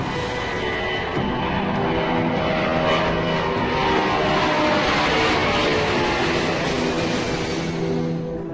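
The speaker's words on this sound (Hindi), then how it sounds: "लाहौर में उतरने के बाद 3 घंटे से भी कुछ कम समय में विमान ने फिर से उड़ान भरी" Aircraft taking off: a steady, loud engine roar that holds nearly level throughout, with a broad rumble and no voices.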